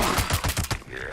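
Rapid automatic gunfire from a weapon in Fallout 76, a dense burst of regularly spaced shots filling the whole moment before cutting off, with faint game ambience trailing after.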